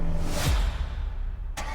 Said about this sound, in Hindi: अपनी गाड़ी इतनी तेज रफ्तार से ऑफिस के बाहर निकाली कि उसके टायर्स की आवाज पूरी जगह गूंज उठी